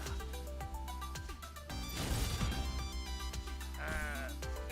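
Sheep bleat in a video game played during a live stream, several wavering bleats over game music with a crashing impact in the middle, heard close and clear.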